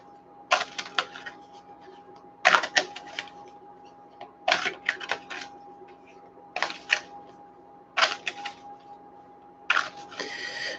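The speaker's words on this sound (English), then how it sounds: "as I'm shuffling these cards" A deck of angel cards being shuffled indoors, giving bursts of crisp riffling and flicking about every two seconds, close and moderately loud, with a faint steady hum underneath and no talking.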